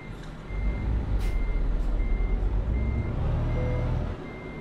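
A truck in Euro Truck Simulator 2 reverses with its backup alarm beeping in a steady, evenly spaced series over a low, loud engine rumble that drops away near the end.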